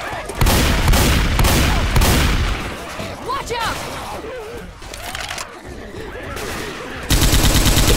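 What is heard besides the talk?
minigun firing in Left 4 Dead 2 video game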